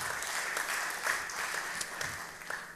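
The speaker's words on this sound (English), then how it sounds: "Give him a round of applause." Church congregation claps for a speaker, a fairly quiet, steady patter of many hands with a few crisper individual claps standing out.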